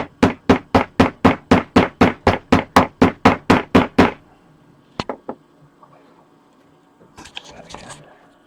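Fifteen sharp, evenly spaced hammer blows drive a peg into a 3D printed Springtrap animatronic part over about four seconds, loud and close, followed by a few scattered knocks and faint handling noise.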